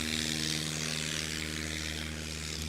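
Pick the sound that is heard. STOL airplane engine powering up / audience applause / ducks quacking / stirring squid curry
STOL airplane engine powering up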